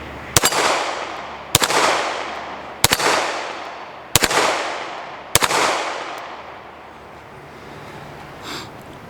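Five loud pistol shots from a Browning Hi Power, each followed by a quick metallic ring from steel plates on a plate rack, evenly spaced about a second apart with lingering echoes.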